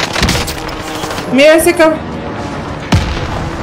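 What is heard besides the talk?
gunfire and sniper shots in video game Call of Duty: Warzone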